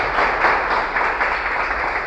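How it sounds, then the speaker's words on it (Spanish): A church congregation applauds together, a dense, steady wash of clapping that holds for about two seconds without a break. "Esos aplausos, mi hermano, siempre son para el Señor."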